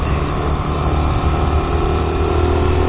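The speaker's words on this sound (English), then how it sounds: "I don't like to rev the tits off my bike" A motorbike engine runs steadily at a moderate, even pitch on a street at night, a continuous low mechanical drone without revving.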